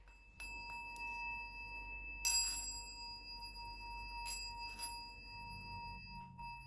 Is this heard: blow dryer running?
no